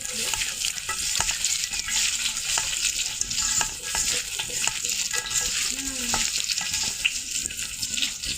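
Ginger and garlic paste is stirred into frying onions in a pan: a continuous loud sizzle runs under repeated scraping strokes of the spoon.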